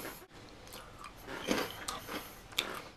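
Close, crisp crunching of hot Cheetos piled on In-N-Out animal style fries, with irregular bites and chews scattered over a few seconds and nothing else heard.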